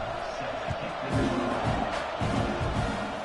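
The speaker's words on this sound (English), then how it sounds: "this crowd is buzzing after that last score" A stadium crowd in a college football video game roars and murmurs continuously, swelling in waves with scattered cheers, while a commentator's voice runs faintly underneath.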